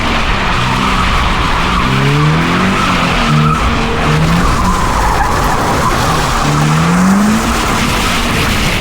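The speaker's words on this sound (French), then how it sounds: "Vraiment, ça, pour faire du drift, il n'y a pas mieux." A Toyota GT86 drifting, its tires skidding and squealing in long wavering bursts over a revving engine, loud and close throughout with no talking.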